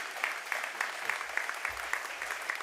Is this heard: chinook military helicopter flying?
no